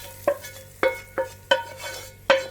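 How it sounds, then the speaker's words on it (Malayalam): A curry-leaf tempering is stirred into a green gram and raw banana peel thoran, with five distinct spoon clinks and scrapes at uneven intervals, close and fairly crisp with no speech. "നമ്മൾ താളിച്ച് വെച്ചേക്കുന്നത് നമ്മളുടെ കറിയിലേക്ക് ചേർത്ത് കൊടുക്കുകയാണ്."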